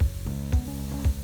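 Coconut cocada mixture sizzles in a pan as it is stirred, a steady hiss broken by three soft scraping strokes at an even pace, close and fairly loud.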